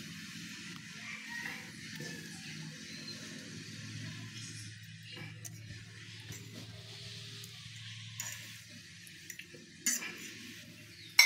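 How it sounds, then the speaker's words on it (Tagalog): A utensil clinks and scrapes against a bowl while sardines and beaten egg are mixed for a sardine omelette, soft irregular stirring taps that end in a few sharper knocks. "Hinalo na po natin yung sardinas na may itlog."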